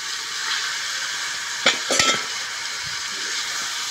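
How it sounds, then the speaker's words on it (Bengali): Chitki curry tipped into hot oil already seasoned with bay leaves, whole cumin and dal spices, giving a steady broad sizzle with a couple of brief stirring clatters in the middle. "ভাজা হয়ে গেছে, এর মধ্যে এখন দেবো এই সিটকির তরকারি।"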